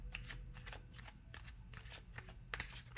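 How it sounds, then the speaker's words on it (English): Tarot cards being shuffled by hand in a reading, a steady run of soft riffling card flutters with a few sharper snaps, close and alone without talk. "I'm gonna do enough shuffling."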